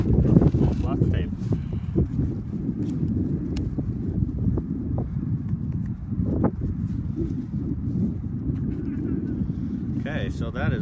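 Strong outdoor wind gusts buffet the microphone in a low, steady rumble, loud and continuous, with occasional handling knocks.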